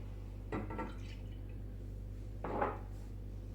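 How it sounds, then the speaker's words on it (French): Water and then milk poured into a cooking pot for a barley talbina porridge; two short liquid pours about two seconds apart, close and quiet over a steady low hum, with no talk. "dans laquelle nous allons introduire notre verre à thé d'eau et notre demi-verre à thé de lait."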